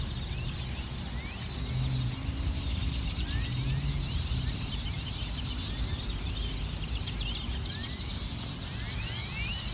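A large flock of birds in a Walmart parking lot keeps up dense, overlapping chirps and calls over a steady roar of outdoor background noise.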